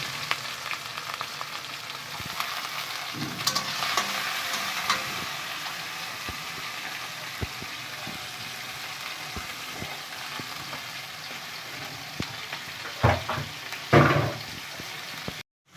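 Small bhuso shrimp fry in a pan, a steady close sizzle broken by scraping stirs, with a louder burst of stirring near the end before a sudden stop.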